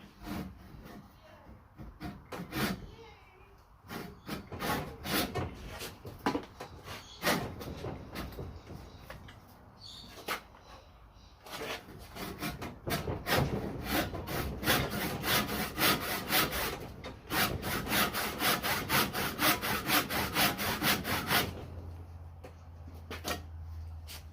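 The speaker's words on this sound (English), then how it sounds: "just need to cut a little deeper" Hand saw cutting into twisted-grain Australian hardwood while carving a nalbinding needle, a long run of quick rhythmic rasping strokes close by that grows steadier and louder midway, with a brief low hum near the end.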